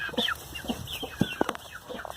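Chickens cluck softly and intermittently close by, short chirpy calls and a few sharper clucks over a faint background hum.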